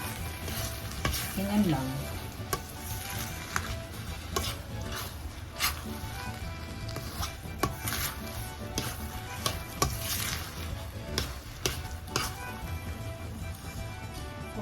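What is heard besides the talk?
stirring wild rice cooking in a pan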